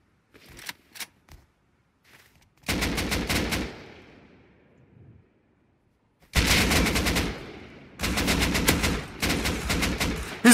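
AK rifle gunfire in the video game Rust: loud, rapid automatic bursts, a few scattered shots first, then longer sustained strings of fire, close and dominant, with no talking.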